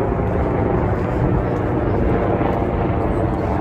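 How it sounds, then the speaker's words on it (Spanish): Steady low rumble of helicopters passing overhead near Al Janoub Stadium in Qatar, a continuous broad drone with no clear beat, fairly loud and unbroken throughout. "Dios, con los helicópteros aquí."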